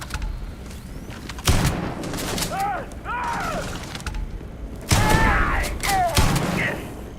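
A shotgun blasting in Starfield combat, two loud heavy booms a few seconds apart with rumbling aftermath, voices shouting between the shots.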